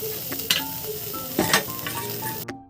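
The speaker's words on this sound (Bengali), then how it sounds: "লবণ অ্যাড করার পর আবারও কিন্তু ভালো করে নেড়ে চেড়ে নিতে হবে যাতে মাংসটা ভালো করে সিদ্ধ হয়ে যায়" Meat stirred with salt in a pan for momo filling, a spoon scraping and clinking in a few distinct strokes over a steady sizzle, close and fairly loud, ending abruptly.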